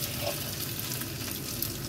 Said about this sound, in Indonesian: kita panaskan lagi minyak, lalu kita goreng dengan cara seperti ini